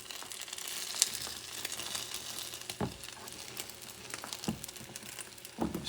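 A cod Spanish omelette cooks in a pan over medium to low heat, giving a soft, steady sizzle with light crackles and a few scraping stirs. No one talks.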